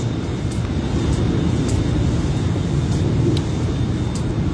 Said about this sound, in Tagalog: Yung jet fighter na naman.